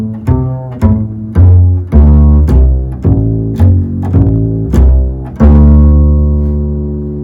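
Bass guitar plays a D dominant 7 arpeggio, root, flat seven, fifth, third and back down, as separate sustained low plucked notes, loud and close, the final root ringing out alone.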